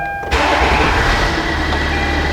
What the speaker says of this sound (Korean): 시동을 켰고요.